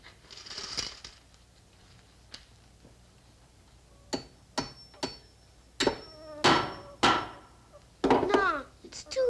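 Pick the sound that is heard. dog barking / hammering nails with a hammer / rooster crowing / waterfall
hammering nails with a hammer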